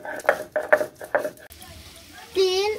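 Garlic cloves are crushed and ground in a kitchen for a mixed greens dish, three sharp rhythmic pounding knocks in close succession, followed by quieter scraping and a brief ringing clink at the end.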